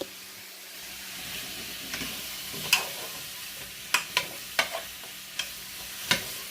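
Sliced apples with lemon juice cooking for a homemade apple pie, a soft steady sizzle broken by several sharp spoon scrapes and knocks against the pan as they are stirred, no talk.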